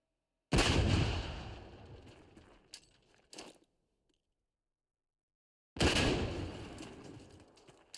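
Two heavy frag grenade blasts in a video game, each a loud broadband boom decaying over a few seconds, separated by near silence with a couple of faint clicks and debris rattles between.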